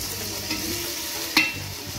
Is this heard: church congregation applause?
no